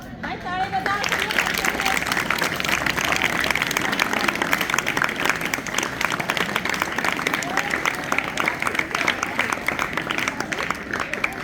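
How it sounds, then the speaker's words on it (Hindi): A school audience at a house activities event claps steadily as a teacher is invited onto the stage, a dense wash of hands with crowd murmur underneath, continuing evenly for several seconds. "भाई ताली बजा।"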